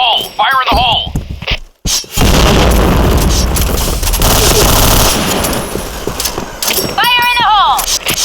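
A grenade goes off in the shooter game Point Blank as a loud, sustained blast and rumble with rapid gunfire, framed by brief game voice callouts before and after.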